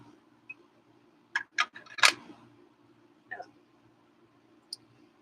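Handheld grinder being twisted: a few quick dry plastic clicks and ratcheting ticks in a small burst, then a couple of isolated clicks, close and fairly quiet.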